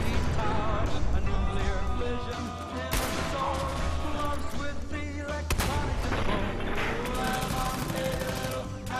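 A loud, dense burst of video game combat from a Fallout 4 showcase at a Bethesda E3 2015 conference, with heavy booming blasts from a Fat Man launcher amid gunfire, music and crowd noise.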